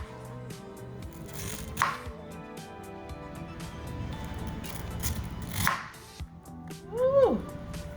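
A knife cuts slices off a ripe, juicy pineapple, giving three crunchy, fibrous cuts spaced a few seconds apart over a low background hum.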